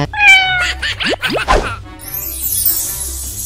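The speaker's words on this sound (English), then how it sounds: "Cat." A cat meows in a cartoon animal-sound sequence: a clear, rising-and-falling meow up front, then a couple of short scratchy cries before a shimmering musical swell.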